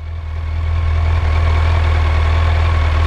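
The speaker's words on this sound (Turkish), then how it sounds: "Şimdi Rolanti'de sesimiz bu şekilde." A Yamaha Fazer 8 motorcycle idles close by, a loud, steady low engine drone with an even rumble that holds unchanged throughout, with no talk over it.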